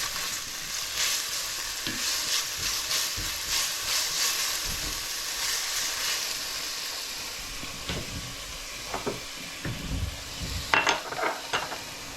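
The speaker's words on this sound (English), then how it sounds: "Let's just stir my onions." Onions fry with a steady sizzle in a pan while a utensil stirs and scrapes, with clinks and knocks of metal against the pan growing more frequent toward the end, close and moderately loud with no talk.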